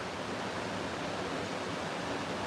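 A river rushes steadily outdoors, a dense broadband wash of water that fills the clip at an even level with no pauses or breaks.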